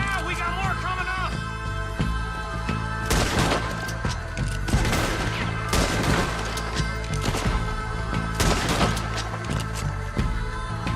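Repeated gunfire in a Red Dead Redemption 2 shootout, sharp bursts of shots cracking at irregular intervals over a steady bed of game music and ambience, with voices shouting nearby.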